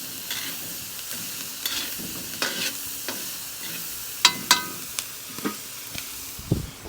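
Onions sautéing in a pot over an outdoor open fire, a soft steady sizzle broken by scattered knocks and scrapes of a utensil, fairly close and moderate in level, with no talking.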